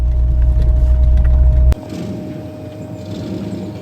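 An SUV crawls off-road in four-wheel drive low, giving a heavy, close engine rumble that cuts off abruptly partway through. Quieter road and cabin noise follows.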